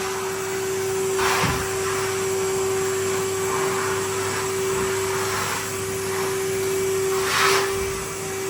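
A household vacuum cleaner runs indoors with a steady droning motor hum and a strong constant tone, its pitch and airflow rising briefly a few times as the nozzle moves, close and continuous with no talking.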